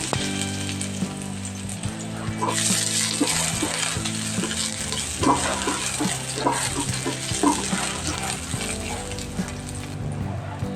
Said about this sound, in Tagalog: igigisa ko po muna yung ating mga pangsahog para sa ating sinabawang isda